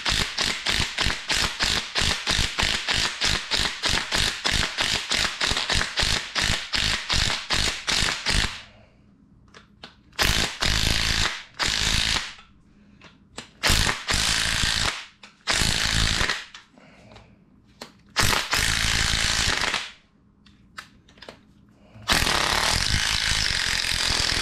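A DeWalt power tool removes rocker studs on a small-block Chevy engine, first hammering in a long rapid run of sharp impacts, then firing in short separate bursts with quiet gaps between them, loud and close.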